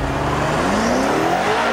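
A 2013 BMW M5 makes a launch-control start from standstill, its engine roaring loud and close with a rising pitch as it accelerates hard.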